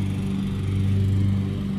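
A lawn mower engine drones steadily in a home garden, a constant low hum that stays even throughout.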